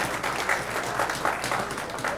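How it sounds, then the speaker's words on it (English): A crowd at the 2008 US Open 9-Ball pool tournament bursts into brief, steady applause after a shot, with many hands clapping at once from a moderate distance. "The crowd applauding on every shot"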